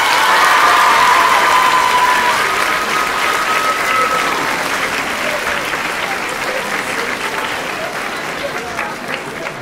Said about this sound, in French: elle mérite un tonnerre d'applaudissements.